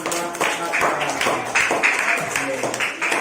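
A group claps in a dense, steady patter, loud and nearby, with voices talking over the applause at a school event.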